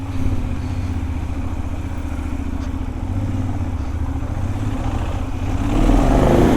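A Benelli 752S motorcycle engine running with a low, steady throb close by, then revving up louder near the end; no voices.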